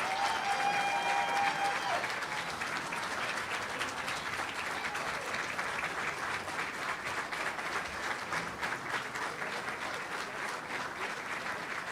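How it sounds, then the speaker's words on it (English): Sustained audience applause fills a hall at a DeKalb County, Georgia civic address, dense steady clapping at a loud level that carries unbroken for the whole stretch, with some crowd murmur underneath. "Stand up, give her a round of applause."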